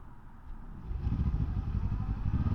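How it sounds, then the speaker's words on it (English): A 2024 Kawasaki Ninja 7 Hybrid motorcycle pulls away, quiet at first under electric drive, then its engine kicks in with a rising, steady low rumble that grows louder and holds close by. "Okay, so initially electric and then the engine kicked in."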